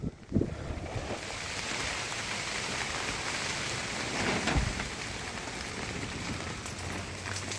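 Steady heavy rain pours during a storm onto a makeshift wooden hut, a dense continuous hiss of drops on the surface with a brief louder knock near the start.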